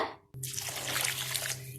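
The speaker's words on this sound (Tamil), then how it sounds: "சோ மெஷர் பண்ணி வச்ச தண்ணியை ஊத்திடுவோம்." A cup of about 200 ml of measured water is poured into a pan for Maggi masala noodles, a soft, steady splashing stream that starts after a brief pause, with no talking.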